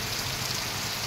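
Heavy monsoon rain falling in a Konkan town, a dense, steady hiss of close, continuous downpour over a brief moment.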